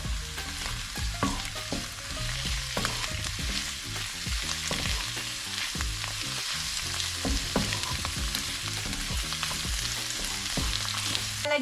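Mushrooms and onion frying in butter in a pan, a steady bright sizzle with frequent clinks and scrapes of a utensil stirring, close and continuous, no voices.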